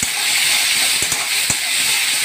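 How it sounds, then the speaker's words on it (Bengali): Ginger garlic paste hits hot oil in a frying pan with a loud, close, continuous hissing sizzle, punctuated by a few sharp clinks of a utensil. "তো এখন আমি আদা রসুন বাটাটা দিয়ে দিলাম।"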